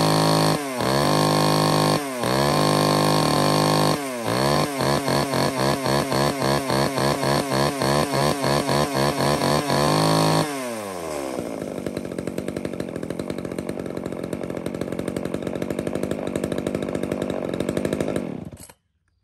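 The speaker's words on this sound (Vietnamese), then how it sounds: "vừa rồi thì cả hai chúng em thì đã test nổ, dọn nổ tất cả những dòng máy cưa" Used Japanese-market chainsaws from STIHL, ECHO, MAKITA and KOMATSU run on test, revving loudly and close in a series of sharp throttle blips before settling into a steady high idle that cuts off abruptly.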